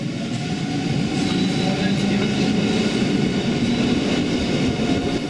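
Rhaetian Railway regional train rolling steadily on its tracks, a continuous loud rumble with faint wheel clatter and hum, heard close up from on board.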